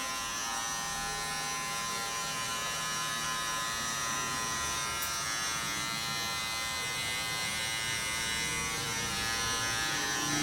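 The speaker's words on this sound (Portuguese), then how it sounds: "Máquina sem pente." Electric hair clipper run without a guard, cutting hair during a short social-style haircut, giving a steady continuous buzz that stays close and loud throughout with no talking.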